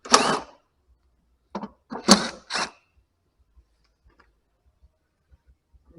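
Removing 5/16 bolts from the heater box of a 1963 Ford Galaxie 500XL, with a few short metallic ratcheting and rattling bursts, then faint small ticks in near silence, close by.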